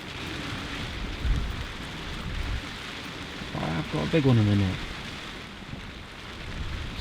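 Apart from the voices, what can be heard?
rain in Morocco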